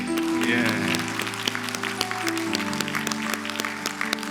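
Warm applause from a church congregation during Sunday worship, mixed with sustained music and sharp individual claps, continuing steadily throughout.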